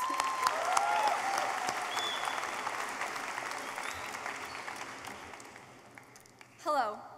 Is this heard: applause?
yes